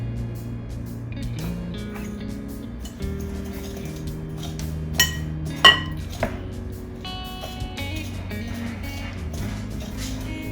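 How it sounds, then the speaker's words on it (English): Butter, monk fruit and vanilla are creamed together in a big bowl, with a utensil scraping and knocking against the sides in irregular clinks and clatters, including a couple of sharper taps, close by and with no talking. "So first we're going to cream together our 4 ounces of butter, the monk fruit, and the vanilla."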